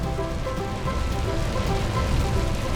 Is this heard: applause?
no